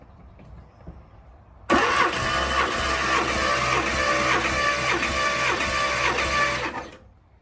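A 1985 Porsche 928 S2 engine cranks over on the starter during a wet compression test on cylinder one, a loud steady rhythmic churning that starts abruptly and runs about five seconds before cutting off, with no talk.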